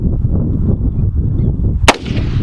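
A single sharp rifle shot cracks out near the end during a prairie dog hunt in open country, loud and close after a stretch of low wind and handling noise.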